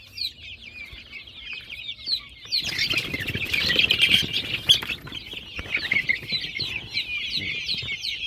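Many 21-day-old chicks chirp in high, rapid peeps, joined midway by a burst of fluttering and scuffling as they crowd close by.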